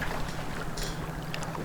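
A boat moves across open water in GTA 5 Online with a steady wash of water and wind, a moderately loud hiss that carries the whole way through with a few brief splashes.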